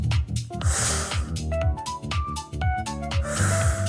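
A sharp nasal exhale during a yoga breathing exercise, the belly pulled in, heard as short forceful puffs of breath over soft background music.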